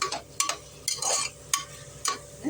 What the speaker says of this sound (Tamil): தக்காளி கொஞ்சம் வதங்க